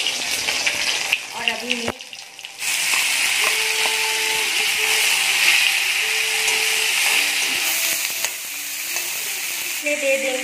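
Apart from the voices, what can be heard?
fermented fish frying in hot oil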